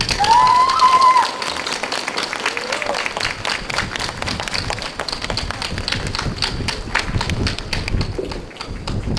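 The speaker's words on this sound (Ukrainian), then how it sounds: "Давайте привітаємо його оплеском" A church crowd at a festive gathering in Lutsk applauds to welcome an archbishop, loud clapping at first that continues as a scattered, rattling patter, with a brief voice at the start.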